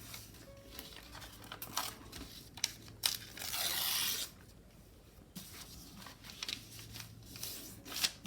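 Paper torn off in a single loud ripping burst lasting about a second, amid soft crinkling and handling noises while decorating coin envelopes at a craft table.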